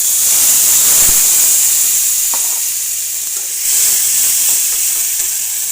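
Spice paste hits hot oil already holding split dried red chillies and nigella seeds, giving a loud, steady, hissing sizzle with a few sharp spatters and no voices.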